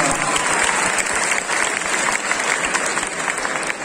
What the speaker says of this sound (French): On applaudit encore une fois bien fort Erza Starlight de Fairy Tail